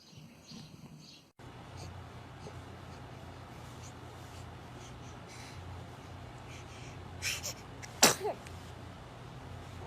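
A baby gives one sharp, close sneeze near the end, preceded by a small sniffly snort, over a steady low indoor hum with faint rustling.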